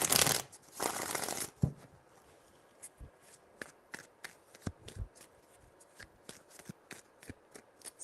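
Tarot cards are riffled in two loud, close shuffling bursts, followed by a series of sharp, scattered taps and flicks as the deck is handled and cards are laid down.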